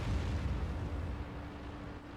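Artillery shells bursting in the World of Tanks game, a dense, continuous low rumble of explosions that holds steady and then eases slightly, with no voices over it.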